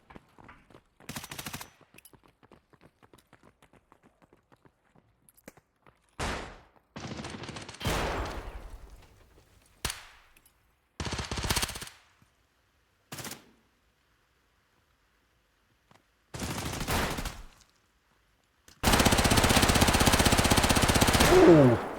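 Gunfire from a Vector submachine gun with 50-round magazines in an Arena match of a competitive shooter game: separate sharp bursts broken by silences, ending in a long, loud sustained volley.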